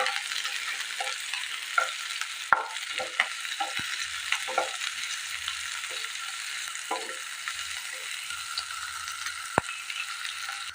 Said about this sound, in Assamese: এয়া মই আদা, নহৰু, পিঁয়াজ গোটেইখিনি মই ভালদৰে ভাজি ল'লোঁ।